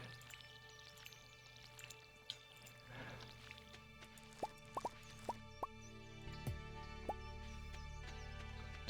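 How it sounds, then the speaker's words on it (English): A farming video game plays soft, faint watering plops and drips, spaced in a loose series of about seven over quiet background music, with no talking. "Water them all anyways, even though it's meaningless today."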